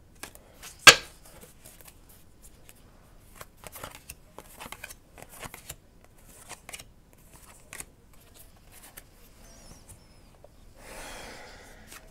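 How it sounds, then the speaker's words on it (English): Tarot cards being shuffled and drawn for a reading, heard as soft scattered rustles and light slaps of cards close to the microphone, with one sharp snap early on and a brief riffling burst near the end, no voices. "now we're gonna draw our last five cards."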